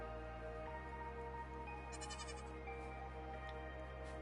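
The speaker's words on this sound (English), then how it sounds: "Guys, I have sheep babies now." Baby sheep in a video game bleat in short repeated calls over a steady droning game soundtrack, fairly faint and without speech.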